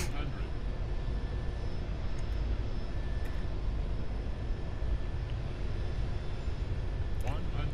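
In the video game Aeronautica, an airplane engine drones as a steady, loud, continuous broadband roar that stays constant the whole time with no breaks.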